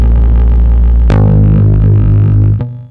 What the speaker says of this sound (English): Once it goes through the delay and applied some CV at the input and a lot of feedback and goes through a filter.